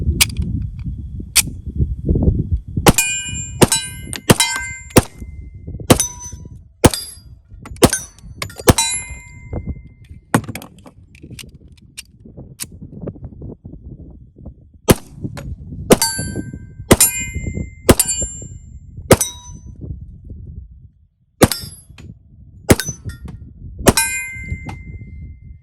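Series of TISAS 1911 Duty .45 pistol rounds striking steel targets, sharp metallic clangs and pings ringing out in irregular bursts over a background of shot reports and outdoor rumble, with a brief quiet gap near the end.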